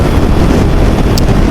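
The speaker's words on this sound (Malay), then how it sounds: "Dia menyeksakan sebab angin terlalu kuat." Loud, constant wind roar buffets the microphone while riding a naked motorcycle at high speed. It is a dense, rushing rumble throughout, with no talking.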